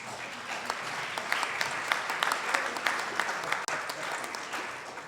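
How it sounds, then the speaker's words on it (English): A large crowd at a live temple event applauds steadily, with dense, continuous clapping that stays fairly loud through the whole stretch and has a few sharper individual claps standing out. "Let's give him a big hand, please."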